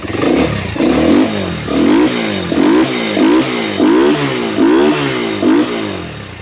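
A Honda motorcycle engine revs up close and loud in a rhythmic series of throttle blips, each one swelling and falling back, with no voices.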